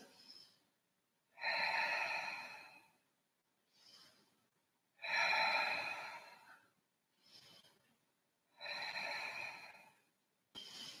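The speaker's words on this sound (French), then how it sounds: "Respirez tranquillement. 5 respirations." Slow, calm breaths during a side plank hold, four long inhale-exhale cycles evenly spaced with quiet gaps between, close and soft with no talking.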